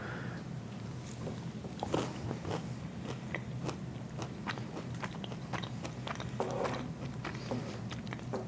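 Crunchy Paleonola granola being bitten and chewed up close, steady crackling crunches repeating throughout with no talk.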